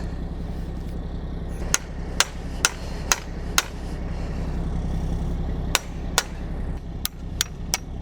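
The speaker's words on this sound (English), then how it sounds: "Hammer those threads through." Sharp metallic hammer strikes drive a bolt's threads through, ringing out in uneven bursts, a few quick blows at a time, over a steady low background rumble.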